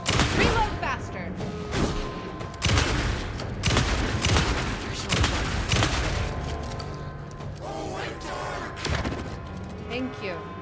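Repeated gunshots and heavy booms in the horror video game Alan Wake 2, several sharp bursts spread through the stretch alongside a busy game soundscape, with a person talking over it.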